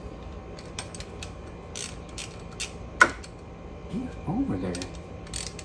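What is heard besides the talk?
ratchet tightening rocker arm on 2010 Camaro SS LS engine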